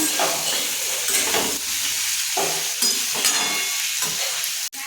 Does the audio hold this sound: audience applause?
no